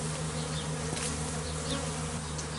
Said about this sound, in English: You can see all the bees that have been lost, they're just coming into land.